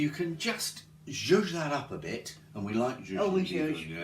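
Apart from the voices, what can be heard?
No everyday noises stand out.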